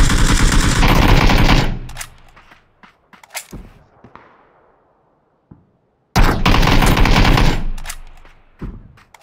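Gunfire in PUBG: two long, loud sustained bursts of automatic fire separated by scattered single shots and quiet gaps.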